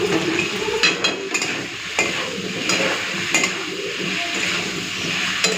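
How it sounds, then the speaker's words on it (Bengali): Potatoes and taro frying with spice paste in a pan, a steady sizzle under repeated scraping and stirring strokes with occasional clinks of the utensil against the pan; no voices. "এই আলু আর কচুর সাথেই মশলাটাকে ভালো করে ভেজে নেব।"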